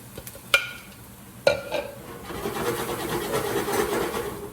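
Rice tipped into a hot pan of fried asada: two sharp clinks from a utensil, then a rising, steady sizzle with scraping stirring.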